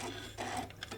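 A sewing machine back tacks at the edge of a shoulder bag, giving a brief, close, steady mechanical whirr with a rapid rattling stitch rhythm.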